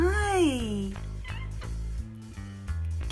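A kitten at an animal shelter, one of two small tabbies, gives a single drawn-out meow up close, followed by softer movement and background noise in an indoor room.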